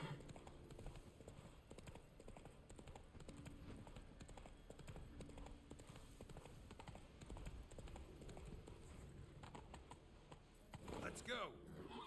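Hoofbeats of Roach, the horse in The Witcher 3, galloping steadily through the game world beneath a dense, continuous wash of ambient game sound, with a brief brighter swell near the end.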